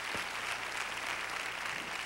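A church congregation claps hands together in continuous, dense applause, steady and fairly loud throughout with no gaps.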